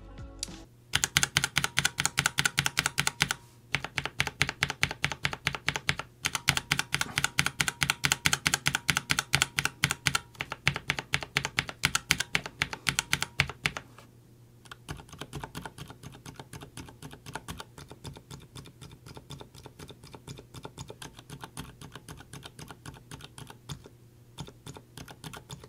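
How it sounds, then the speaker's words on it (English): Stock unlubed Alias switches on a Keychron mechanical keyboard clatter in fast, steady typing bursts, loud and close at first, then softer and lighter after a brief pause midway, with no voice. "final sound test for the Alias. This is the Keychron with the stock unlubed Alias switches."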